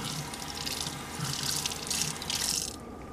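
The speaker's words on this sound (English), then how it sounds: "And then you just rinse off the outside." Water from a tap splashes steadily as it rinses the outside of a Berkey water filter element, a close, continuous sink stream with slight surges before it cuts off.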